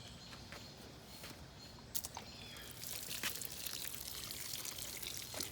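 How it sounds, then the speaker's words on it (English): Fig tip cuttings in trays being watered in, with a soft steady pour and trickle of water onto the soil that swells slightly louder in the second half, plus a couple of brief knocks. "let's just go ahead and we're going to water these in."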